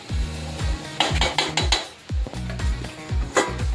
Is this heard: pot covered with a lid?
yes